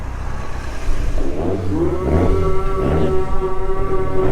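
A turbocharged 1.8T Mk2 VW GTI engine idles and revs at a drag strip while the boost is adjusted, a loud close rumble rising into a sustained higher drone with a steady whine.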